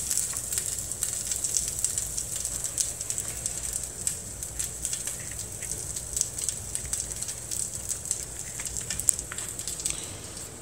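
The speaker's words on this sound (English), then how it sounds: "That sounds like bacon frying." Steady crackling sizzle of plant-based Sweet Earth Benevolent Bacon frying in a pan, a dense hiss with scattered pops, close and continuous with no talk.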